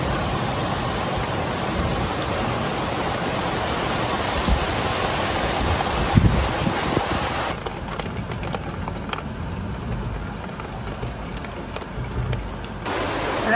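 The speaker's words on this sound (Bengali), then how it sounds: "জোরে বৃষ্টি হচ্ছে আল্লাহ।" Heavy rain pours at night, a dense, steady hiss of drops drumming on surfaces, loud and continuous across the whole stretch with no one speaking.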